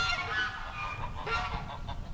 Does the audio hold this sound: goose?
yes